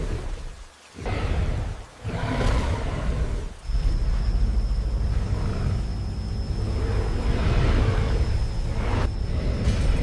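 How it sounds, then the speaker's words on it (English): Steady rain pours down with a constant broadband hiss, broken by a few brief dips and whooshes near the start; no voices. "The rain slowed."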